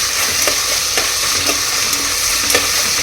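Peanuts, cashews and green chillies fry in hot oil for a vegetable pulao, giving a steady dense sizzle with a few sharp stirring clicks of a spoon against the pan.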